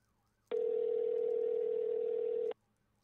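A telephone call tone sounds while waiting for someone to pick up: a single steady electronic tone holding for about two seconds, then cutting off into near silence.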